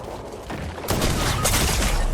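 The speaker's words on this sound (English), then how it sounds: "Bro, I got sniped." A sniper rifle shot in the Fortnite video game cracks out loudly, followed by a dense, sustained burst of gunfire and game noise that keeps going to the end.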